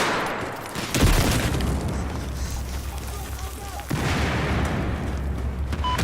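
Battlefield 4 grenade detonation: a sudden deep boom bursts out, then a rumbling wash of battle noise with a second heavy blast a few seconds later, the whole thing loud and dense like distant artillery.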